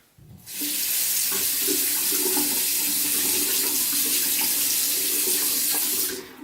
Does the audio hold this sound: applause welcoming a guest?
no